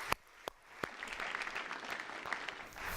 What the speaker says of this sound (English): Let's give them one more round of applause for all the work that they've done to put this together.